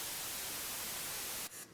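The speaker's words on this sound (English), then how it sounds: "So it's typical white noise." Steady, loud broadband hiss of white noise from a noise generator plugin fills the clip, then cuts out abruptly near the end, leaving a brief quieter patch.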